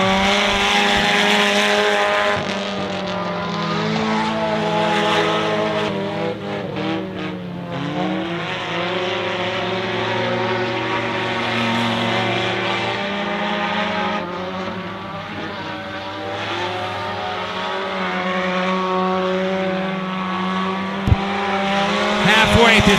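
Race cars roar steadily around a dirt speedway during a heat race at Honor Speedway, engine drone rising and falling as the pack laps, loud and continuous with a race announcer's voice running over it.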